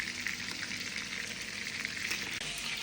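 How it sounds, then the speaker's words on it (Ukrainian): Meat frying in a pan until golden-crusted, a steady close sizzle and crackle with no talk over it. "М'ясо у нас дожарили до золотистої скоринки"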